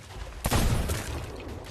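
A ship's cannon booms in the pirate video game Sea of Thieves, one sharp loud blast with a rumbling tail that fades over the following second.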